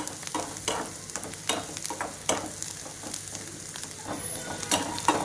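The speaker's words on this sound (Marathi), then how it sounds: "आणि कांदा छानपैकी गुलाबी रंगावर भाजून घ्यायचा आहे आपल्याला." Chopped onion fries in a pan and sizzles steadily while a spoon scrapes and stirs it at irregular intervals. The frying noise stays close and continuous, with no voices.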